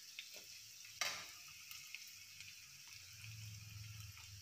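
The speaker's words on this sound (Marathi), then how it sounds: "तर आपण हा कांदा बारीक गॅसवरती लालसर होईपर्यंत भाजून घेतोय" Chopped onion fries in a pan over a low gas flame until reddish, giving a steady, soft sizzle throughout with a sharp clink near the start and a slightly fuller crackle toward the end.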